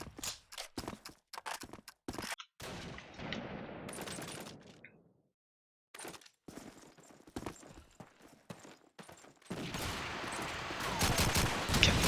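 Gunfire in the Call of Duty 2 match on the Toujane map comes as sharp, loud bursts of shots in quick clusters, with a short quiet gap midway and denser firing near the end.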